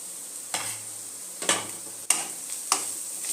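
Ground turmeric, cumin, coriander and chili powders are stirred into a sizzling pan for chicken lababdar, a spoon scraping in four distinct strokes over a soft steady fry.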